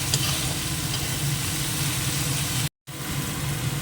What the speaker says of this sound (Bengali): একটা টমেটো বাটা আবারও একটু ভেজে নেবো এটা